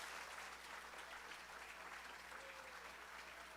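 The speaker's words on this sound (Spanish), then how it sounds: "Un aplauso a Cristo." A church congregation claps together during a sermon, steady dense applause heard faintly at a distance.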